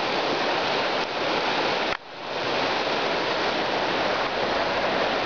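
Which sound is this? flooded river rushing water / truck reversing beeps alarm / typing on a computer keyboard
flooded river rushing water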